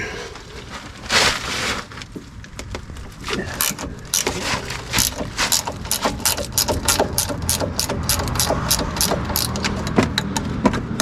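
Rapid ratcheting clicks from a wrench loosening tight bolts on the front end of a first-generation Toyota Tacoma, a dense run of close, sharp clicks going on nonstop.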